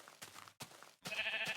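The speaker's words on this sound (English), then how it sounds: "Sheep." Sheep in the Minecraft video game, beta 1.7.4, give three short bleats in quick succession, quiet and fairly close, with the last one the strongest and no talking.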